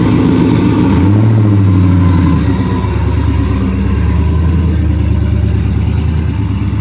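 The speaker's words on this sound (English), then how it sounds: "Bro, he sounds like he's going to a bracket race." A cammed Infiniti G35 engine sits at a high, lumpy idle close by, loud and steady, with a brief rev near the start before it settles into a choppy, loping rumble.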